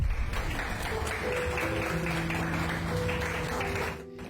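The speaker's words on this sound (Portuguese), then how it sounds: "A salva de palmas é para Alice, a bebê super prematura" A crowd applauds a premature baby with sustained, dense clapping for about four seconds before it fades, with no talk heard.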